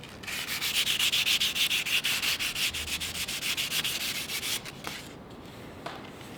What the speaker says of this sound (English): So I'm just going over it, lightly sand it. This is 320 grit.